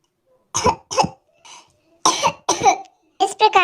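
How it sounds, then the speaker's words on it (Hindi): A child coughs in several sharp, harsh bursts, close by, with short pauses between them. "खांस रहा होता है बहुत ही ज्यादा"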